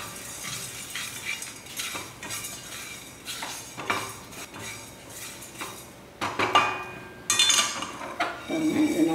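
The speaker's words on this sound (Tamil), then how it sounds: "நல்லா ட்ரை ரோஸ்ட் பண்ணிடணும்" Asafoetida, cumin and curry leaves dry roasting in a pan, heard as scraping and clinking of a utensil against the metal with brief stirring rattles, close and moderately loud.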